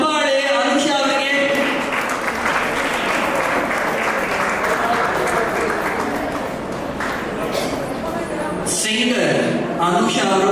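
An awards-ceremony audience claps steadily and loudly for a singer being honoured on stage. The applause holds for about ten seconds, with speech over it toward the end.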